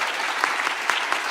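Audience applause after a panel discussion at a crypto conference day session: dense, even clapping with a few sharper individual claps standing out, moderately loud and brief.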